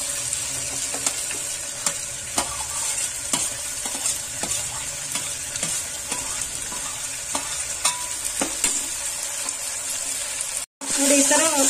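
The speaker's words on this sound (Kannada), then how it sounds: "ಈಗ ಬೀನ್ಸ್ ಹಾಕ್ತಾ ಇದ್ದೀನಿ" Green beans stirred and fried in a pan for Malnad vegetable pulao, with a continuous sizzle and repeated scraping clicks of a spoon on the pan, steady and close, then a brief cutoff near the end.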